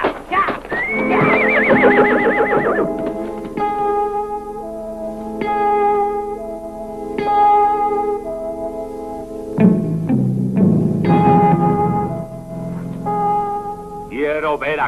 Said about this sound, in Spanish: ¡El caballo!